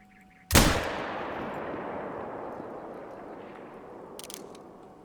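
A single loud .243 rifle shot in theHunter: Call of the Wild, a sharp crack followed by a long rolling echo that fades over several seconds across open country, with no talking.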